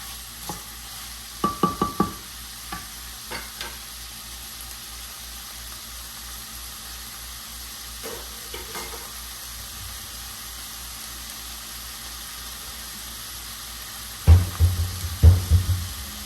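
Lentil soup cooks in a pot over medium heat with a faint, steady simmering hiss, broken by a few clustered clinks and stirring knocks near the start and end.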